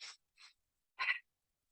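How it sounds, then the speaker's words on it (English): Two quick, short breaths drawn in, then a longer, airy exhale, close and soft with silence around them. "really kind of quick inhale followed by a long exhale"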